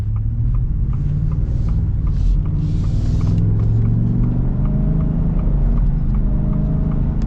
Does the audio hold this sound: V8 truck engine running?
yes